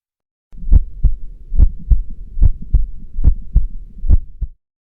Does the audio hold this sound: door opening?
no